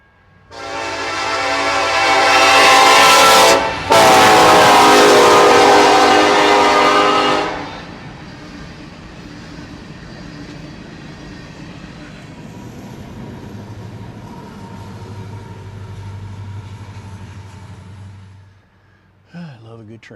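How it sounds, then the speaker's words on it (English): A loud train horn blasts twice, close by. A long rumble of rail cars passing follows and fades toward the end. "I hear a train coming."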